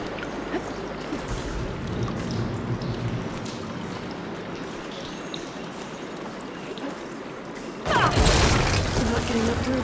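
Flowing water in the video game Horizon Forbidden West, a steady rushing wash that swells sharply louder near the end as the flow is switched on, with no talk.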